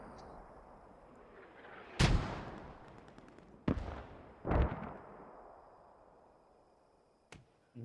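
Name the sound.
mortar fire in video game Post Scriptum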